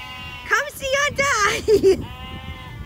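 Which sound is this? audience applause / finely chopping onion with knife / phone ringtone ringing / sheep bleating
sheep bleating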